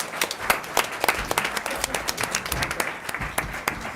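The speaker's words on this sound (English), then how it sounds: "Another round of applause for everyone." A small group at a school board meeting claps for everyone, with distinct individual claps popping out of a moderate, uneven patter that continues steadily for several seconds.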